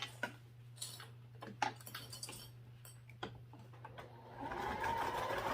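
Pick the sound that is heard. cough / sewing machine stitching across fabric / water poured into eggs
sewing machine stitching across fabric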